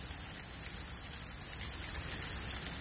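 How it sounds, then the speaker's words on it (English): Freezing rain falls steadily outdoors, a continuous fine patter of drops on surfaces at moderate level with no voices. "Freezing rain's nothing good to be out in or even drive on."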